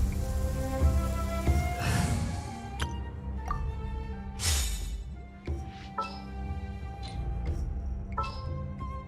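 Rain falls in the video game Genshin Impact, a steady patter with scattered heavier drops and splashes, mixed with tonal game sounds and the croaks of frogs.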